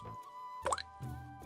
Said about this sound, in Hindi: पीतल के बर्तन में गिरती बूंदों की टिप टिप सुनाई दे रही थी।